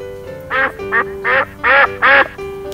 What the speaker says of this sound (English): It's the yellow duck!